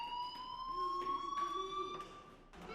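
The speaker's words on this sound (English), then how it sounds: "Hey, do you hear that fire alarm?" A school fire alarm in Life is Strange Remastered, a steady electronic tone that rings continuously with a pulsing beat, moderately loud and heard alone without voices.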